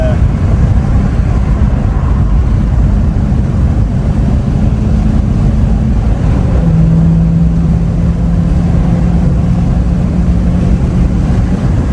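A loud, steady engine drone from a Mercedes C63 AMG W204 in a tunnel, with heavy low rumble and wind buffeting, held for several seconds; the engine note shifts slightly partway through.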